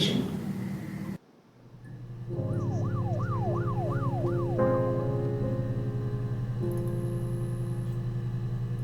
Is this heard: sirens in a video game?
yes